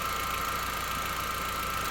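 Car engine idling with no lights on, a steady, even hum with a faint mechanical whine, constant and close for a short stretch with no talk.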